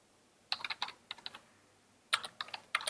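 Quick keystrokes on a computer keyboard come in two short bursts of light clicks, close and quiet, with a pause between them and no talking.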